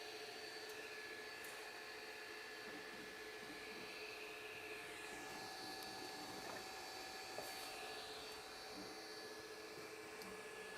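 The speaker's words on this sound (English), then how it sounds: "The only thing you hear is the fan." The cooling fan of a Fokoos Odin-5 3D printer runs with a steady, even whir and a faint tonal hum, close by and unchanging, with no other sounds.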